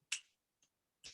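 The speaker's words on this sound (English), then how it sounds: "This is snapping." Three crisp finger snaps, close and isolated, spaced unevenly with silence between them.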